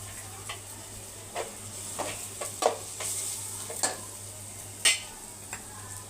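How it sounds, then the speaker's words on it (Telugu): Onions frying in a pan with chili powder, garam masala and coriander powder for an egg curry, a steady low sizzle broken by scattered scraping and clinking stirs of a utensil against the pan. "ఉల్లిగడ్డ వేగింది"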